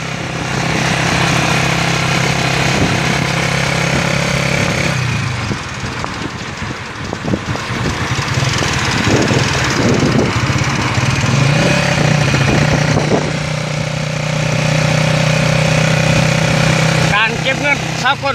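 A three-wheeled samlor motor taxi rides along with a steady droning engine, which dips briefly in the middle before rising again, while people talk over it throughout.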